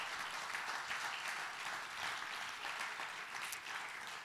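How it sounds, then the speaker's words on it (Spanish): A congregation applauds during a church sermon, with steady, moderately soft clapping from a crowd sustained for several seconds and no voices on top. "dele palmas al Señor."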